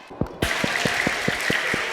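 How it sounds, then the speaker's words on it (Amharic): Children clapping together at an Eid al-Fitr celebration at Spring of Knowledge Academy, a steady stream of applause with a clear rhythmic beat of claps running through it, fairly loud and close. "እሺ ሁሉ አጨብጭቡላቸው ለሁሉም"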